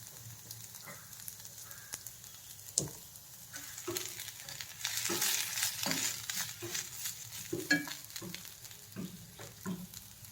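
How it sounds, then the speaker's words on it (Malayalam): Grated coconut roasting in oil in a pan for a Kerala mushroom and drumstick theeyal, with a steady sizzle broken by scraping stir strokes and spoon knocks, close and moderately loud, with no voices. "ചുമന്ന കളറാവുന്നവരേക്ക് ഇത് വറുക്കണം."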